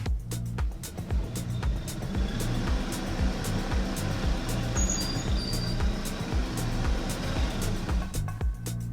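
2021 Nissan Rogue or Mazda CX-5 SUV accelerating during a three-wheel slip test on rollers, a low steady engine drone with rumbling tires, close and sustained for several seconds.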